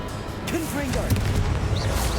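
The Confringo blasting spell in Hogwarts Legacy lands as a dense, booming explosive burst, loud and close, with battle noise and a voice running through it.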